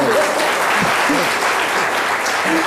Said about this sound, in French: les applaudissements sont faibles quand même pour Jimmy Danger